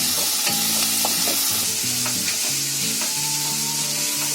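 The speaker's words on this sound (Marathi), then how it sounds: "कांदा चांगला लाल फ्राय होईपर्यंत आपल्याला परतायचं आहे" Onions fry loudly in a pan for a chicken curry, with a dense, constant sizzle and repeated scraping stirs. No one speaks over the close, busy frying.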